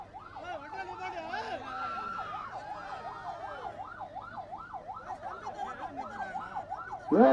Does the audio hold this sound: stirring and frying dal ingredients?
no